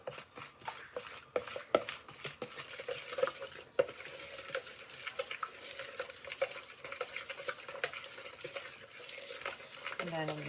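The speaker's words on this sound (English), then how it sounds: "I'm gonna mix it all together. I'm gonna use a whisk." A whisk stirs dry bath soak ingredients in a container, giving repeated soft scraping and clinking taps in an irregular rhythm, fairly quiet and close.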